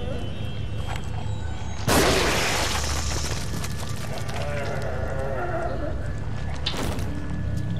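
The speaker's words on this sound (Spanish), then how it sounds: "es que también les hemos pegado una buena explosión" A sudden loud explosion bursts out in the survival horror game The Evil Within, followed by ringing debris and ambient rumble, then another sharp impact a few seconds later, with someone talking in Spanish throughout.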